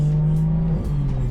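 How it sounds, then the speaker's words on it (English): A single-turbo BMW F80 M3 drones loudly and steadily from close by, with a brief dip and shift in pitch partway through that suggests the turbo letting off. "I hear that turbo spool and the flutter as well"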